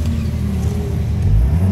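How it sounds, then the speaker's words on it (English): A car engine briefly revs from a quick throttle blip, a loud close mid-pitched engine drone rising slightly toward the end. "You just gave it a little blip and she went"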